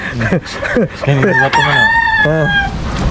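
A rooster crows loudly and close by, its long drawn-out call joined by several clucks from nearby chickens.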